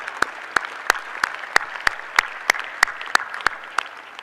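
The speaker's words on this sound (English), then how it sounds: "Let's give another round of applause for all these scholarship pathways recipients." An audience at a 2021 medical school convocation claps for scholarship recipients, with sharp sparse claps keeping a steady rhythm, fairly close and filling the room with no talk over it.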